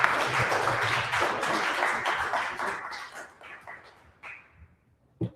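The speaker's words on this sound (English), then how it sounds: "Round of applause for Brad Kane." A conference audience applauds for a featured guest, a dense burst of clapping that fills the opening seconds and then thins out into a few scattered claps before fading.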